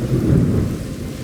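A hail storm sound effect for the plague of hail on Egypt, a loud, heavy rumbling roar of pounding storm noise that swells and then eases over about a second, with no one speaking.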